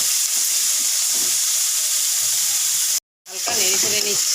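Squeezed grated squash hits a hot pan with green chillies, giving a loud steady hiss and sizzle that cuts out abruptly for a moment, then returns with clinks and scraping of stirring.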